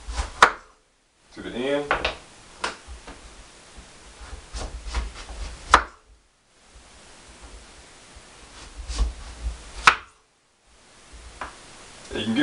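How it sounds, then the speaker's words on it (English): A knife slices through a raw butternut squash with a series of sharp, close cuts and knocks against a board, separated by short pauses, while a voice talks briefly. "We're just going to slice it down"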